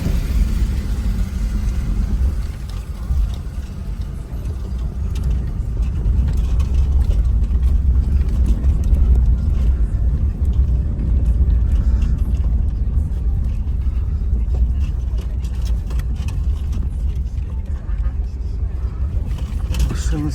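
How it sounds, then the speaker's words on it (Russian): Toyota Yaris Cross 2021 rolling off a ferry, a steady low engine and road rumble lasting throughout at close range, swelling slightly midway, with faint mechanical clatter and no voices. "Ну вот, выезжаю с парома"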